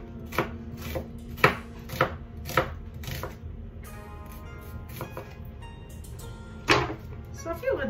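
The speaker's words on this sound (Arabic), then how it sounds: "وليت كنستعمل بصله حمراء البنات صحيه اكثر" Red onion chopped with a knife on a board in a home kitchen: a handful of sharp, uneven knocks spread over several seconds, moderately close, with someone talking throughout.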